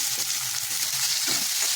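Finely chopped onion frying in hot oil, a steady close sizzle with faint stirring underneath and no voices.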